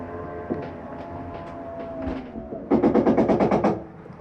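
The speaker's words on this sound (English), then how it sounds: "That noise is just the slide mechanism saying I'm in all the way." A 2002 Sunnybrook 28RKFS RV slide-out mechanism finishing its retraction: a low motor hum, then a loud rapid series of ratcheting clunks as it reaches the fully-in stop, with no talking.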